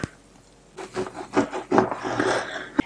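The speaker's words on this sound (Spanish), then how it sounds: "Cortamos el pan en rebanadas finas y del mismo grosor." A knife slices bread into thin, even slices for a cold salmon cake. After a quiet start, a series of close, rasping sawing strokes follows in quick succession, with one sharp tap at the end.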